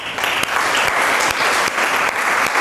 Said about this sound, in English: So give a huge round of applause for Nikita.